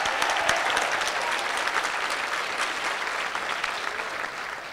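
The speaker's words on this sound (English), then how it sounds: "how about a big round of applause for our entertainment, the Garland High School String Quartet," A crowd at a school scholars reception gives sustained, dense applause for a high school string quartet, even and fairly loud throughout, tapering slightly at the end.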